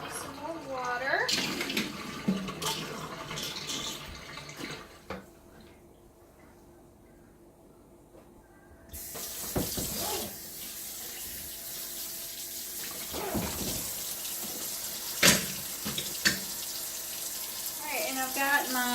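Tap water pours steadily into a kitchen sink holding a few dishes left to soak, splashing loudly, pausing briefly in the middle, then resuming with clinks of dishware while someone talks over it.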